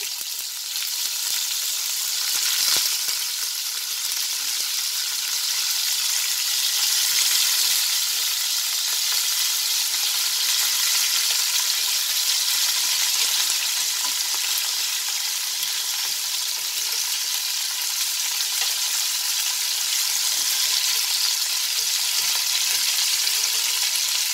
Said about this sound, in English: Heat the oil nicely. Then slowly just drop these cauliflowers.